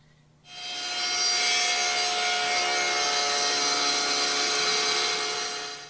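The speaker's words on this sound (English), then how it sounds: "Now we'll make that pass shaving off the edge of the board." A table saw rips a thin strip off the edge of a wooden board, a sudden onset of a loud, steady, bright whirring cut lasting several seconds, close up and with no talk.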